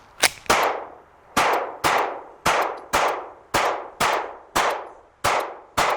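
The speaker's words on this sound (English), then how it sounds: "Let's shoot it and see if it still holds zero." Gunshots from a gun fitted with a Zulisy Oak C green dot sight, ten sharp reports spaced roughly half a second to a second apart, each with a ringing decay, loud and close with no talking.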